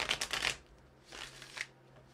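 Star Spinner Tarot cards being shuffled, two quick riffling bursts of flapping card edges separated by a short pause, close and fairly quiet.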